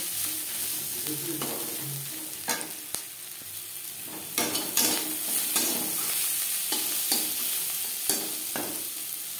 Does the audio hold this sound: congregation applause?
no